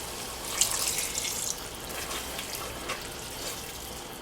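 Water is poured into a thickened pepper steak sauce on the stove, a soft, continuous splashing and trickling with faint sizzling underneath, fairly quiet and heard without talk.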